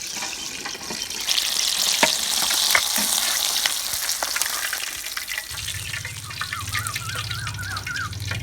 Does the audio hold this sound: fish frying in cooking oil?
yes